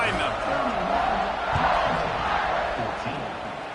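Football stadium crowd at an NCAA game as the Huskies' opponent kicks off, a dense roar rising and swelling with scattered shouts, loud and close, then easing slightly toward the end.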